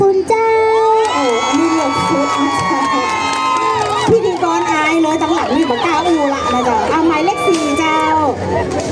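A dense crowd cheers and shouts loudly for a child contestant in a little Noppamas pageant, with high excited voices and children's yells piling up into a continuous, close roar throughout.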